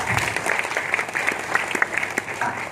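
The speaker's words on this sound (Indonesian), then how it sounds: "Kita tepuk tangan dong." A church congregation claps at a GBI church service in Taman Kencana, sustained scattered applause from a crowd of worshippers, fairly close and lively throughout.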